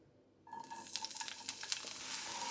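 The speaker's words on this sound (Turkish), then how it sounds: "Tavam içerisine 2 yemek kaşığı sıvı yağma aldım. Üzerine bir tane seri biber ve bir tane kapyar koyuyorum." Two peppers, one green chili and one capia, land in two tablespoons of hot oil in a frying pan. They set off a sudden loud sizzle that crackles and spits steadily, close up, with no talking.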